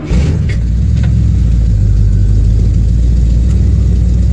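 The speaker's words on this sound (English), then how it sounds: "So I'm gonna let this truck warm up for a little bit" A 1968 GMC pickup truck engine idles after a cold start, a loud, steady, low rumble with an even throb and no talking.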